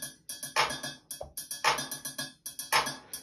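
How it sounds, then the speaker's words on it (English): Synthesized hi-hat and clap from a modular Euclidean sequencer setup, heard in isolation: short bright ticks repeating in a steady pattern, with a broader noisy clap burst landing about once a second, close and clean with no other instruments. "So that's the hi-hat"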